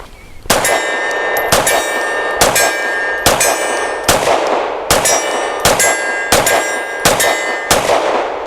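A Grand Power Q1S pistol fired at a target about 25 yards away, about ten sharp, loud shots spaced roughly a second apart, each followed by a ringing metallic ping from the steel target, no talking.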